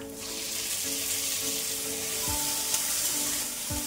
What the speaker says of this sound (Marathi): कांदा, मिरची, कढीपत्ता आता छान परतून घेऊया।